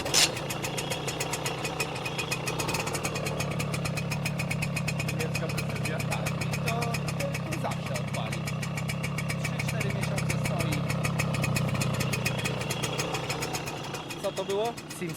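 A German-made Simson motorcycle engine from 1982 runs with a steady rapid rattling idle, close by and continuous, while people talk over it throughout.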